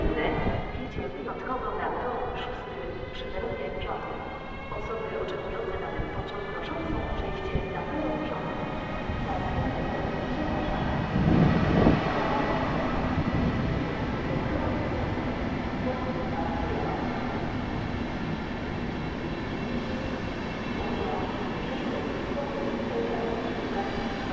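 Intercity express train rolling through Warszawa Zachodnia station in winter snow, a steady rumbling pass with rail noise at moderate distance, with a station announcement voice heard over it.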